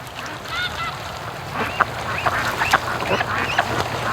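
Red ducks out on a lake, several calls and honking quacks scattered through the clip over a steady outdoor background, moderately close and clear.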